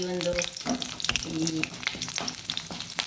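Crushed garlic sizzles and crackles in hot oil in a pan, close and steady, with scattered stirring clinks and scrapes breaking through the frying hiss.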